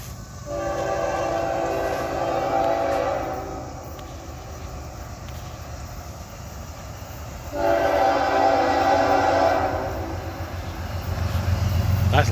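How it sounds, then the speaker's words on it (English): A train rolls up to a railroad crossing with the gates lowered, sounding its horn in two long, loud blasts over the steady heavy rumble of the cars passing nearby. "All right, gates down. Trains are coming."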